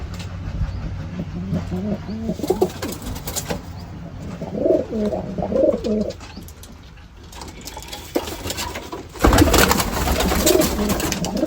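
Many pigeons in a loft or cage, cooing in soft repeated calls near and fairly loud, with rustling movement and a burst of broadband noise toward the end; a voice talks faintly at times.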